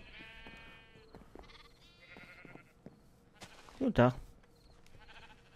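Two short Minecraft sheep bleats come early, one after the other, then someone speaks briefly in German and a louder knock sounds near the end.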